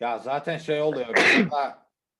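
Someone speaking Turkish on an NBA talk show breaks off with a single loud, close sneeze right after his speech.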